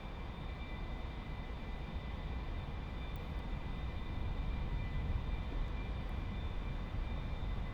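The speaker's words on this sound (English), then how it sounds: "Sword 1, rolling. Full throttle. Sword 3 rolling." An A-4 jet rolling for takeoff at full throttle, a steady roaring engine drone with a faint high whine, even and unbroken throughout and fairly quiet, with no voices.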